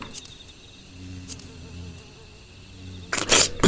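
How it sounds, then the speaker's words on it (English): Small insect, a bee or gnat, buzzing close to the ear in a quiet room at 4 a.m., a thin steady drone that swells louder near the end. "Why do I hear a bee in my ear?"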